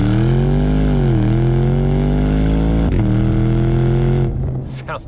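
A 2021 Porsche Cayenne GTS SUV with a V8 engine gives a loud, sustained deep engine roar that holds steady with slight pitch shifts and dips, then fades near the end.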